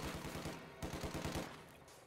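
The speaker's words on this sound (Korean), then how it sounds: "이제 총소리 좀 살짝 들리시죠?" Rapid automatic gunfire in Company of Heroes 2, a rhythmic burst of repeated shots, fairly quiet and steady with no talking.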